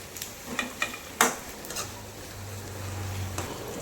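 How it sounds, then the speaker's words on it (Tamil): Ginger garlic paste with a little mint and coriander sautés in a pan for prawn kurma, a soft, even sizzle under a few clattering scrapes of stirring near the start. No one speaks. "இஞ்சி பூண்டு பேஸ்ட் பச்சை வாசனை போகிற வரைக்கும் வதக்கிக்கலாம்."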